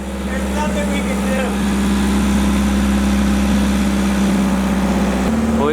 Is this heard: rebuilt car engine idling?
yes